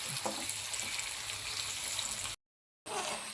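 Jackfruit seed skins fry in hot oil while they are turned over, giving a quiet, steady sizzling hiss with faint stirring, cut by a brief moment of silence before the sizzle resumes.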